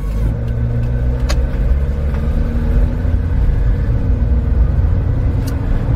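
A Subaru Sambar Dias TV1 van with AT power on climbs a steep mountain pass road near Yamato village, its engine a loud, steady rumble with slowly shifting tone and no talking.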